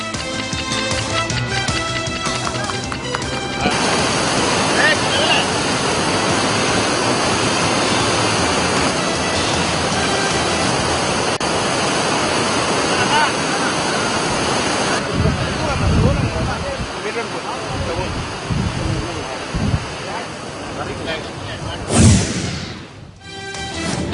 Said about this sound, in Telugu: అనంతరం నీటిని దిగువకు విడుదల చేశారు